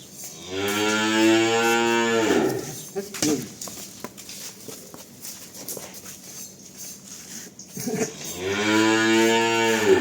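Cow lowing in two long, loud moos at the start and end, separated by a stretch of quieter handling noises and a faint voice.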